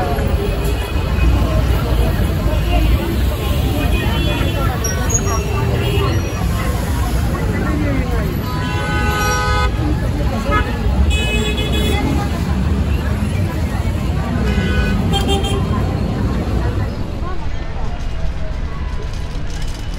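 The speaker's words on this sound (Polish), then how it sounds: "Tam już gwar uliczny, klaksony, samochody, wszystko naraz." Busy street in Lima, Peru, a continuous loud wash of traffic and crowd babble with occasional car horns and voices mixed in.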